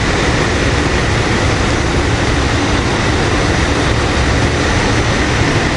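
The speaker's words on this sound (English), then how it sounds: "This is train 3505." A rush-hour commuter train at Paoli, a consist of multi-unit railcars, roars past close by as a loud, dense, continuous rumble and wash of broadband noise that holds steady throughout, with no voices heard.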